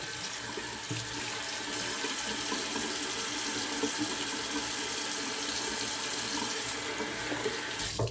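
Cold water runs steadily from a tap for a rinse during a straight razor shave, a continuous close hiss and splash with no talking.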